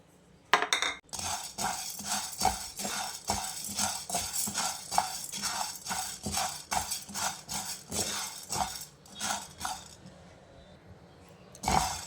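Sago pearls with cumin, salt and oil dry-roasting in a pan, a brisk run of repeated metallic spoon scrapes and clinks against the pan, close and fairly loud, easing off toward the end.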